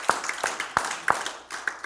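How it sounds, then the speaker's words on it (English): Church congregation at a Sunday service giving a round of hand claps, sharp individual slaps in a loose, uneven rhythm, a handful of distinct claps close by rather than a dense ovation. "Let's give him a hand clap this morning."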